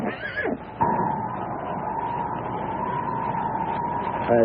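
A horse whinnies briefly and close by at the start, then a steady droning tone carries on underneath to the end.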